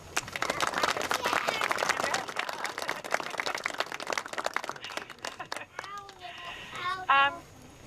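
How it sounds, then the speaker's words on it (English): A crowd claps in a dense burst of applause for several seconds, then it fades as a voice speaks. "So I think we need to give him a little round of applause here."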